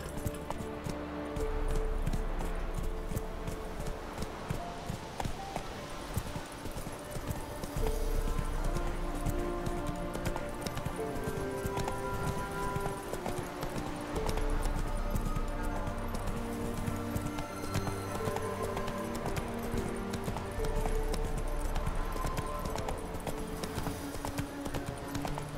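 Horse hooves clip-clop at a steady gallop in The Witcher 3, a continuous rhythmic pounding that runs the whole stretch against a dense game backdrop of music and ambience, with a brief whinny.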